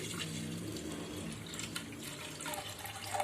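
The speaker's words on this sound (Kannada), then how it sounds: "ಈ ಹಾಲನ್ನು ನಾನಿಲ್ಲಿ ಟ್ರಾನ್ಸ್ಫರ್ ಮಾಡ್ತಾ ಇದ್ದೀನಿ" Half a litre of milk poured into a steel pan for fruit custard makes a steady, soft liquid trickle throughout, close and quiet, with no talking.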